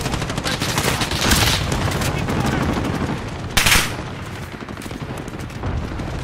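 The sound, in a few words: gunfire in the video game Call of Duty Warzone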